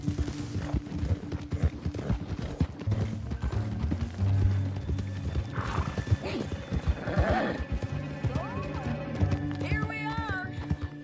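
A startled horse neighs and whinnies several times over rapid clip-clopping hooves in the video game Red Dead Redemption 2, with busy game sound effects and rumbling in the background.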